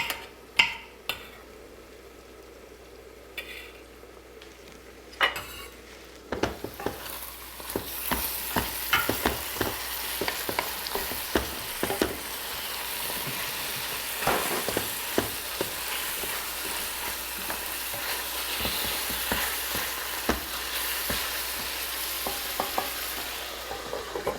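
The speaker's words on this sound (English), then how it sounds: "I like to cook the meat all the way. That's why I cover it." Meat frying in butter or ghee in a pan, a steady sizzle that settles in after the first few seconds, with scattered stirring clicks and scrapes, near and alone.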